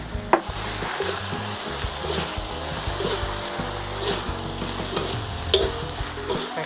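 Vegetables stir-frying in a pan with a splash of water for a mee sua noodle dish give a steady, close sizzle with scraping and clattering of a utensil throughout, with no talking.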